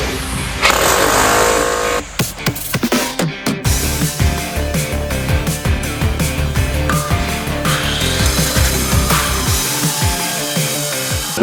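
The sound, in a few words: cutting disc grinding a concrete slab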